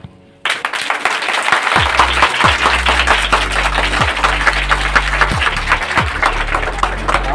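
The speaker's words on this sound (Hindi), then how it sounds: "तालियां कम से 1 मिनट बजनी चाहिए, कम से कम।" An audience at a school in Budaun, Uttar Pradesh, breaks into loud, sustained clapping that starts abruptly and keeps going steadily, with rhythmic thumping beats underneath.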